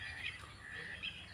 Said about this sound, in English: Open-billed stork.